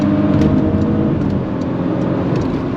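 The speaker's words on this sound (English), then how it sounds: "Cutting over, here's your acceleration." A Porsche engine pulls hard under acceleration, a steady loud roar close up with road and wind noise blended in, continuous through the whole stretch without voices.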